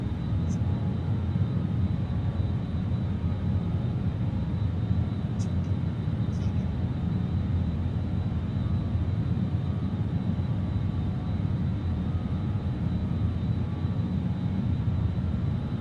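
Steady, unbroken engine roar inside the cabin of a BAe 146 airliner in a flight simulator, heard from a quieter rear section, a broad low rumble with a few faint clicks and no talking.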